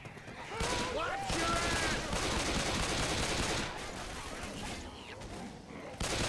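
Pistol fire in the Left 4 Dead game, a continuous barrage of overlapping shots and chaotic action running loud through most of the stretch, with a voice speaking briefly amid the din.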